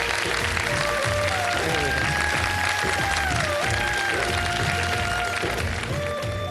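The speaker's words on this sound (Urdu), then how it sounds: "تالیاں بجا کر آپ نے بتانا ہے کہ تھینک یو" A studio audience claps steadily throughout at a television iftar show, with a speaking voice and some musical tones layered over the applause.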